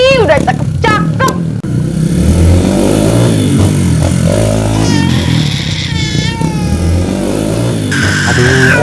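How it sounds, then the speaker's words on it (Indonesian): A motorcycle with a loud exhaust roars close by, revving up and down steadily while voices carry over it. "Aduh, motor siapa bising knalpot nih?"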